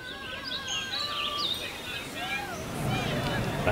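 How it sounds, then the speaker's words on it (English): Birds chirping and warbling on a Beijing street, thin overlapping calls scattered over a low background of city hum and distant murmur of voices. "I hear birds, pigeons."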